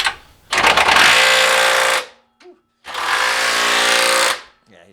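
Loud power tool, likely an impact wrench, tightening a part during a Honda K24 engine swap into a CR-Z, running in two long bursts of about a second and a half each with a short gap between them.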